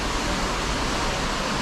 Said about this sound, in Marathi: बाहेर तुम्हाला पावसाचा आवाज येत असेल